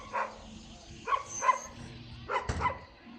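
A few short dog barks in scattered bursts, moderately distant, with quiet background noise between them.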